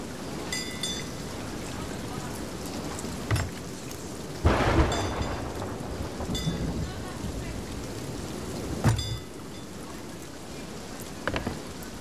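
A thunderstorm at sea in the pirate game Sea of Thieves: steady heavy rain with several loud thunder cracks and rumbles spread across the stretch, and talk occurring faintly alongside.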